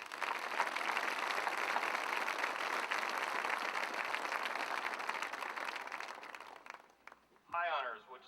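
Applause from the audience at a 2010 Fairfield, Iowa high school graduation ceremony: a sustained wash of many hands clapping, steady and fairly loud, fading out before a voice begins speaking.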